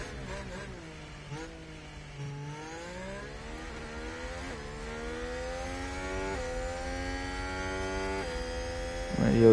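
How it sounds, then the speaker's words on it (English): An F1 car engine in the video game F1 Manager 2022 revs up and down through repeated gear changes with high whining harmonics, rising steadily in loudness toward the end. "Engine purring."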